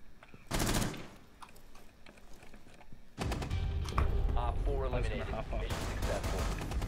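Gunfire in the video game Rainbow Six Siege: a short burst of loud shots, a pause, then sustained rapid automatic fire with clattering layers, over game sounds while players talk.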